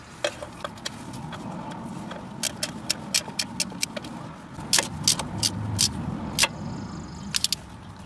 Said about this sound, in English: Now we're going to just go ahead and tighten up all the bolts